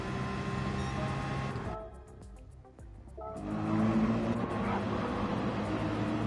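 Racing-car engine of a black Porsche in Gran Turismo 7, a steady loud drone that drops away briefly in the middle, then surges back stronger, with faint talk.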